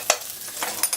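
Butter sizzling in a pan before crepes go in, a short, steady hiss broken by a few quick stirring scrapes and taps.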